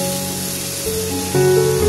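Chickpeas hit a hot pan for a village-style Bengali chana masala, giving a steady broadband hiss that jumps louder near the end as they land, with a faint tonal hum in the background.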